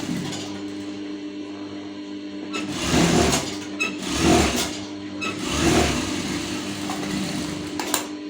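A sewing machine stitches a belt, its steady hum swelling in three louder stitching bursts. It is close and clear, with no talk over it.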